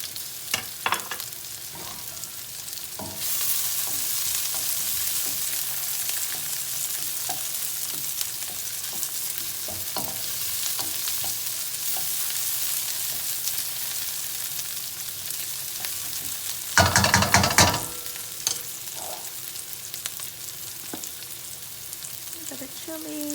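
Garlic sizzles and fries steadily in a pan alongside onions and peppers, a continuous close hiss with occasional stirring clicks and a brief louder burst of sizzle near the end; no talking.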